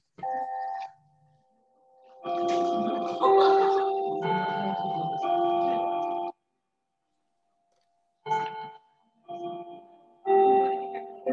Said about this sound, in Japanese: ちょっと鐘が鳴ったところで